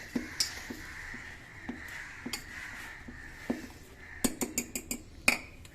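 Whisk clinking against a bowl while mixing breakfast batter ingredients, light repeated metallic ticks at a steady rhythm, quickening into a rapid burst of taps near the end, close and fairly quiet.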